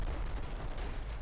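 Light infantry gunfire in the video game Combat Mission Final Blitzkrieg, a brief dull crackle of distant small-arms shots under a low rumbling battlefield background.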